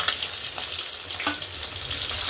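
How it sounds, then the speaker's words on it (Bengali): Tengra fish frying in oil in a pan for a Bengali fish curry, a steady close sizzle and crackle with no talk. "মাছটা ভাজা হয়ে গেলে তুলে নেব"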